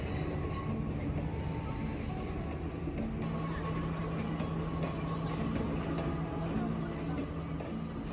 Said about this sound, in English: This is the train service to Ella, and right now it's passing through the famous 9-arc bridge.